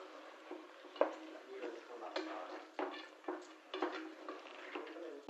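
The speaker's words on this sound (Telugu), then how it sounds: "ఇప్పుడు ఒకసారి అంతా మిక్స్ చేసుకుందాం" Washed raw chicken stirred in a pan with a utensil, producing repeated scraping and clinking knocks against the metal at an uneven rhythm, close and moderately loud with no talking.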